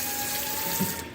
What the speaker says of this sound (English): But I'll fill this bottle up, usually about 3/4